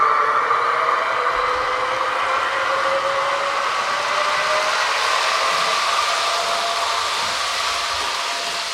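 A model Class 450 electric train fitted with a sound speaker hums and whines steadily, its motor tone rising and sliding in pitch as it runs, loud and continuous.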